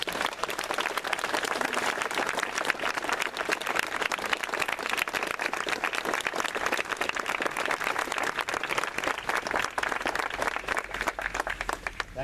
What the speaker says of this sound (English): one more big, big round of applause